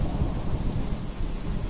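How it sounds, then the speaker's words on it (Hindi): A thunder and torrential rain sound effect: a deep rumble rolls under a dense, steady hiss of heavy rainfall, loud and continuous, with no voice over it. "और फिर आसमान से मूसलाधार बारिश होगी"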